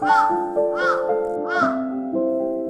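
Three loud, close crow caws repeat at an even pace over sustained musical tones, like a cartoon crow calling.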